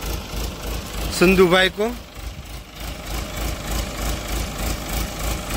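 A JCB backhoe loader's engine idles with a steady low diesel rumble beneath someone speaking Hindi in an outdoor setting, with the engine continuing under the talk.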